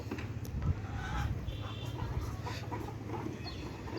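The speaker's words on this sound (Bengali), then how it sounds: "এই যে আমার ফার্মি মুরগির শেড, আর এই যে মুরগিগুলো" Nine-month-old Fayoumi hens cluck inside a farm shed, with soft, scattered calls over a low, busy background murmur.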